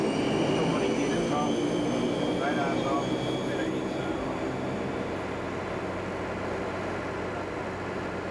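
An Argosy airliner taxiing after landing at Christchurch toward the terminal gate, its engines giving a steady, fairly distant roar with whining tones, slowly fading slightly over the stretch.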